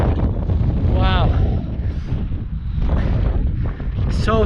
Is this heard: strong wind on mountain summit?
yes